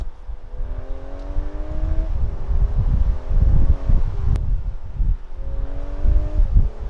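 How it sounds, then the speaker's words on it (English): A 2019 Audi A5 Cabriolet Premium Plus accelerating from inside the cabin, its engine note climbing in pitch and dropping sharply at quick dual clutch gear shifts, with wind rumble underneath and no talking. "It shifts very fast with this dual clutch transmission."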